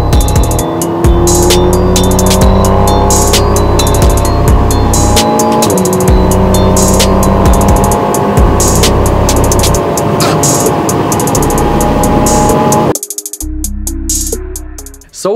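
A stock 250-horsepower Alpine A110 sports car accelerates hard on the autobahn from 100 to 200 km/h. The engine roars loud and close with rising tones through gear changes, then drops away sharply near the end.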